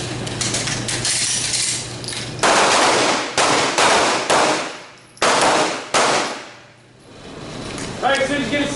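Handgun shots ring out during a night shooting drill on a range, a loud close series of sharp blasts with short gaps and ringing decays, some overlapping in quick succession.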